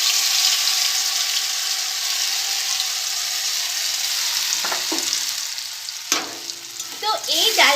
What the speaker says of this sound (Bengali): এর মধ্যে আমি ডালটা দিয়ে দেবো